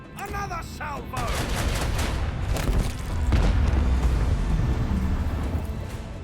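Starship lance battery salvo in Warhammer 40,000: Rogue Trader, a dense roll of heavy booming blasts sustained for several seconds, loud and continuous, with brief voice-like sounds at the start.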